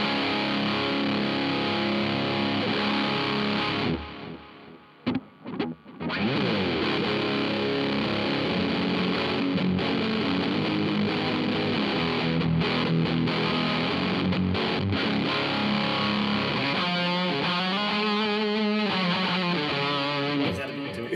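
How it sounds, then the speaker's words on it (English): Electric guitar with humbuckers played through a Mozztronics distortion pedal, a loud, dense, sustained distorted tone with chords and single notes, a brief drop near five seconds, then rhythmic picked riffing toward the end. "Absolute favorite distortion pedal. In the world of distortions, that's best I've played."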